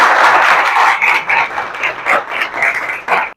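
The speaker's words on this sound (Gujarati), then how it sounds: "આવા સુંદર વિચારો માટે એક જોરદાર સર માટે તાળીઓ પાડો." Secondary school students in Gadhakda applaud their teacher with loud, close clapping that starts as a full burst, then thins into uneven waves before cutting off abruptly.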